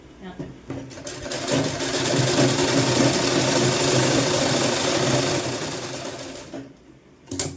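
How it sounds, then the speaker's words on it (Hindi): A sewing machine stitching a sleeveless kurti: the motor whirs up, runs a steady, loud, continuous stitch for several seconds, then slows and stops, with some talk at the start and end. "तो यहीं से हम इस तरह से सिलाई ले लेंगे"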